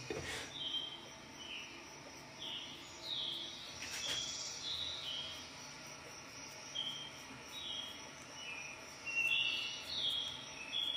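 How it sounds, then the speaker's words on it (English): Birds chirp and sing in short bright bursts during mating season, heard through an open window over quiet early-morning outdoor ambience, moderately distant, with calls repeating every few seconds. "do you like the sound of the birds? I just opened the window."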